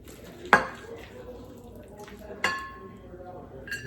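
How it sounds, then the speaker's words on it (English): A serving utensil clinks sharply twice against a dish while baked food is dished up onto plates, about two seconds apart, with soft handling noise in between and a faint clink at the end. "I'm just gonna dish some up here so you guys can see it."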